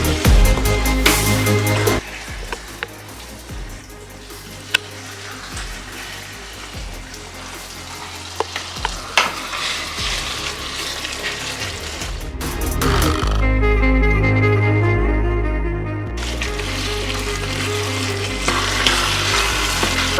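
Minced meat sizzles in a hot pan while added red wine cooks off, a steady frying hiss with occasional stirring scrapes that swells into a louder, fuller sizzle partway through.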